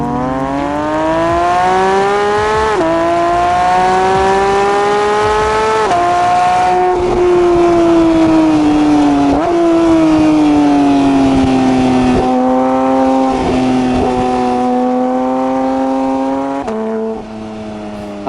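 A Porsche 992 GT3 flat-six climbs through the revs to its 9,000 rpm redline in loud, sustained pulls, pitch rising, dipping briefly at each shift through the 7-speed PDK and climbing again, close and with no talking.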